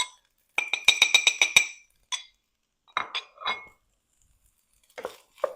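A utensil stirs crawfish and sausage fried rice with Creole spices in a pan, giving quick bursts of bright metallic clinks and scrapes separated by short pauses.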